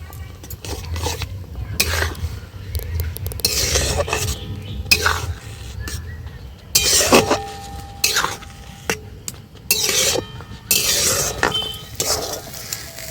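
Semolina stirred in a kadai with a spoon, repeated scraping and clinking strokes against the metal pan in irregular bursts, close and clear, with occasional speech in between.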